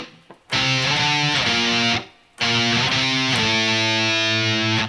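Heavy distorted electric guitar pounds out octave chords, loud and driving, with a short pause midway before the rhythmic chord pattern resumes.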